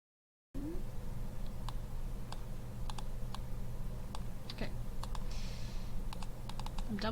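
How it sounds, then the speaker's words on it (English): Quiet, crisp keyboard clicks tap out at irregular intervals during video editing in Adobe Premiere Pro, including a Control V paste, over a low steady room hum with no voices. "I'm double clicking and then I just push Control V and it should paste there."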